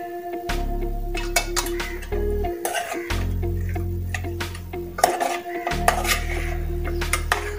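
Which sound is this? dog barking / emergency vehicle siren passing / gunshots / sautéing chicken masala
sautéing chicken masala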